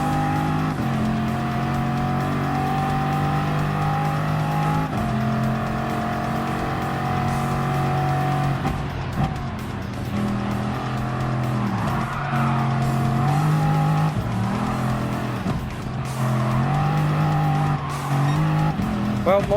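Bugatti race car in Gran Turismo Sport driving a circuit lap, a loud sustained engine tone rising and falling through gear changes with brief tire squeals, continuous throughout while someone talks over it.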